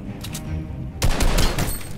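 Gunfire from a hand cannon in the Fortnite video game: several heavy shots in a dense burst during the second half, over steady game background noise.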